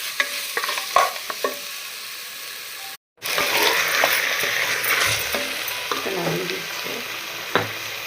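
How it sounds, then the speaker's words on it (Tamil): Tomatoes sizzle steadily in a hot pan while a spoon stirs and scrapes, with a brief pause before the frying resumes. "தக்காளி நல்லா வதக்கிக்கலாம்."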